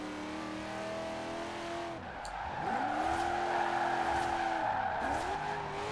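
A V8 police car drifts in the Forza Horizon 4 racing game, its engine note rising and falling in steady sweeps while tires squeal loudly and continuously through the slide, with no talking.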